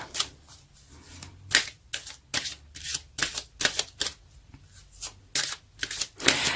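A tarot card deck is shuffled close by, riffling in a steady run of about a dozen crisp, papery bursts separated by short pauses, with no voice over it.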